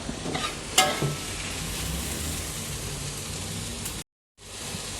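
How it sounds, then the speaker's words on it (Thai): Baby corn being stir-fried in a minced pork tomato sauce for spaghetti, a steady close sizzle with stirring scrapes and a sharp clack near the start, cutting out briefly before the frying resumes. "คนให้เข้ากันอีกทีนะครับ ผัดไปเรื่อยๆนะครับ"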